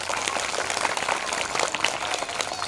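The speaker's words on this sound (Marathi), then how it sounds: "आता एकदा अजून जोरदार टाळ्या वाजवा" Applause from a crowd of children and parents at a school inauguration event, a steady dense patter of clapping sustained throughout without a break.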